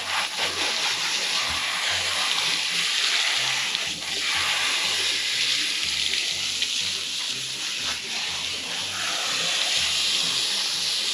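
Water runs steadily from a tap with a constant hissing rush while Border Collies are washed, close and loud, continuing throughout without pause.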